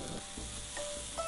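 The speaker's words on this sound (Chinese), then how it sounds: "西红柿入锅，" Diced tomatoes fry in an oiled pan for a tomato and milk rice dish, giving a steady close sizzle with light crackling and a faint stir, alone without talk.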